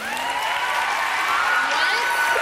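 A television talent-show audience applauds and cheers for a departing contestant in a steady wash of clapping, with high whoops and screams layered on top.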